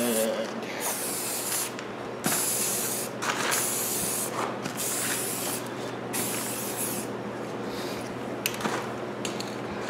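Paint sprayed from an aerosol can onto an alloy wheel in smooth coats, with repeated hissing bursts separated by short pauses, close and clear.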